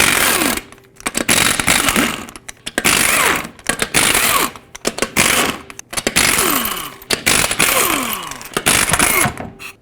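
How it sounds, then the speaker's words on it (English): Loud bursts of a power impact tool spinning a 22mm socket to remove lug nuts from the wheel of a RAM 2500 truck, several whirring, rattling runs separated by short pauses, close up with no speech. "with your 22mm socket, remove all the lug nuts."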